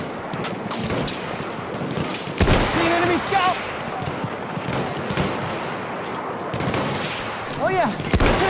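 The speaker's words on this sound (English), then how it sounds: "Machine gun! One of theirs!" Machine gun fire in the World War I shooter Battlefield 1 on the Argonne map, rapid bursts rattling under chaotic battlefield noise, with a shouted voice breaking in partway.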